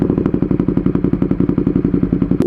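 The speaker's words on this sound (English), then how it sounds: "let's fire this bike up" A motorcycle engine idling just after starting, with a rapid, even chugging beat of exhaust pulses, loud and close, running alone without talk.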